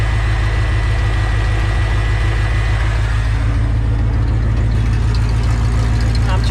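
A 1984 Ford F-150 engine idles steadily and fairly loud up close, a constant low rumble with a faint mechanical tick running throughout.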